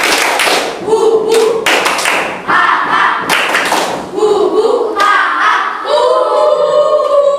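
A classroom of students performs the Tepuk Indian clap chant, loud rhythmic bursts of group hand clapping alternating with shouted chanting voices, close and energetic.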